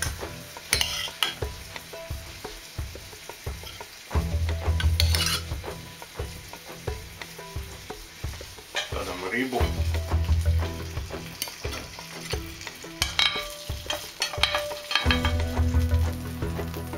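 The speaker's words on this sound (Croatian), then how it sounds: "Stavimo povrće." Vegetables for sea bream with vegetables and fish sauce sizzle in a hot frying pan. Repeated scraping stirs and clatters of a utensil against the pan come in bursts over a steady frying hiss, with no talking.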